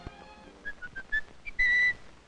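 Someone whistles a short tune outdoors near a house yard: a series of clear, bright notes, with one long sustained note at the end, alone and fairly close.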